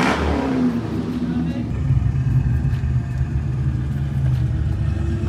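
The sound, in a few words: drift car engine revving, exhaust noise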